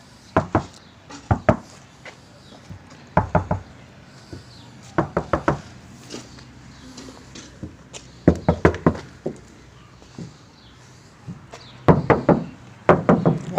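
Knuckles rap on the body panel of a 1995 Suzuki Margalla car in short clusters of two to four sharp, hollow knocks, close up, with brief pauses between bursts.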